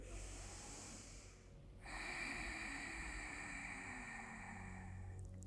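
A long, deep yoga breath drawn in audibly through the nose and throat, steady and close, after a brief quieter pause.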